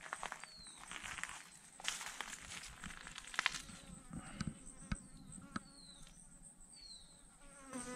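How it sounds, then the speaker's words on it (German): Honeybees leaving their hive during a colony relocation in Paraguay, a faint buzzing as individual bees fly past, with scattered soft clicks and rustles in a quiet outdoor setting. "Langsam kommen die ersten Bienen aus dem Stock."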